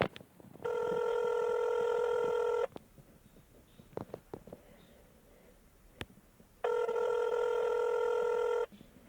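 A telephone rings twice in the Playmobil toy scene. Each long electronic ring lasts about two seconds and the two are separated by a quiet gap with faint clicks, heard clearly and with no speech.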